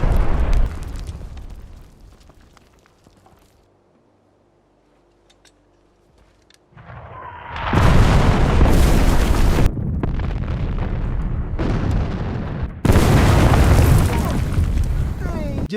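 Heavy German artillery barrage in a war film about Russian troops in the trenches: after a quiet stretch with faint voices, loud sustained booming explosions roll in and continue in dense waves.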